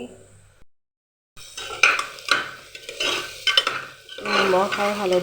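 Arhar dal cooked with ridge gourd frying in a pan starts after a near-silent gap, then brings rhythmic spatula scrapes and clanks against the pan over a sizzling bed, loud and close.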